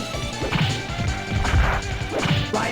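Punches and kicks landing in the fighting video game Rising Thunder, a steady run of loud, sharp smacks and thuds in quick bursts over game music.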